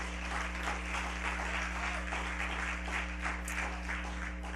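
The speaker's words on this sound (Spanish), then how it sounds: "Denle un fuerte aplauso a Jesús." A church congregation applauds at a sermon, a steady wash of hand claps running at even volume throughout, with a constant low hum underneath.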